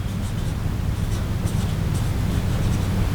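A pen or pencil scratches across paper, writing a single word in short, soft strokes, close and quiet against faint room noise.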